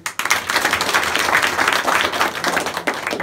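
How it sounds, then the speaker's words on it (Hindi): Audience of students clapping for their parents at an adolescent education program in an inter college, a loud continuous round of applause throughout, dense and close. "और उनके लिए अभी से ताली बजा लो।"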